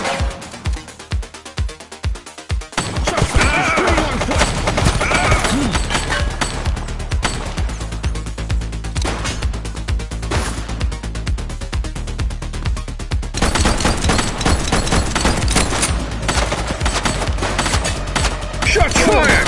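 Automatic gunfire in the police game The Precinct, sustained loud rapid bursts that build after a few sparse shots and keep hammering almost without pause, close and dominant.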